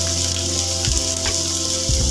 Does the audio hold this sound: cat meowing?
no